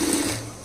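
Sewing machine running steadily while stitching a lined blouse with beaded lace, a continuous close mechanical hum for a brief moment.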